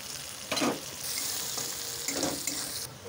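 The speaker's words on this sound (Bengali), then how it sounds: "পেঁয়াজ ভাজাটা হয়ে গেছে" Onions fry in oil in a pan with a soft, steady sizzle and a couple of quiet stirring scrapes, fairly faint, with no talking.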